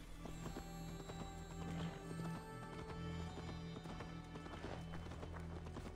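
Hoofbeats of a horse clip-clop steadily in Assassin's Creed Valhalla, with faint game ambience and a low drone underneath, a soft whinny mixed in, fairly quiet overall.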